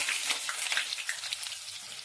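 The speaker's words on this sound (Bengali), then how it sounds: "আর এখানে কেটে রাখা পেঁপে আর আলুগুলো এক এক করে ছেড়ে দেবো তেলের মধ্যে।" Pieces of cut papaya and potato drop into hot oil and fry, a bright crackling sizzle close by that stays busy and fairly loud throughout, with no voices.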